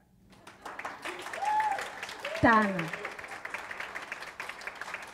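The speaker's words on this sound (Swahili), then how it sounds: "tupigie makofi our moderator" An audience claps for the moderator at a farewell event for a civil society organization director, a steady crowd patter under a speaking voice and a brief whoop or cheer.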